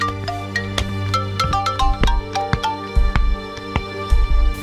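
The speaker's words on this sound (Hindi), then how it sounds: "एक्सक्यूज मी, फोन बज रहा है।" A mobile phone ringtone plays a bright, repeating melody of short tonal notes over a low background hum, close and fairly loud, with no talking.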